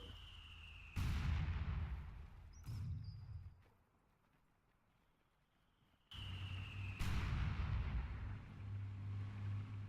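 Mortar fire in a WWII video game battle around Caen, with heavy booming impacts and rumbling blasts at moderate distance, a quiet lull in the middle before the barrage resumes.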